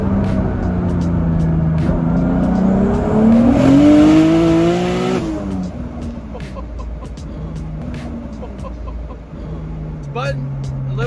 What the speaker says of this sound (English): Try to get a second gear hit here.